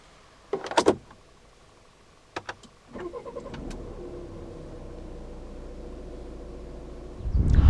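A few sharp clunks and clicks, then a 2016 Volvo V70 2.0 D3 diesel engine cranks and settles into a low idle, revving up louder at the end.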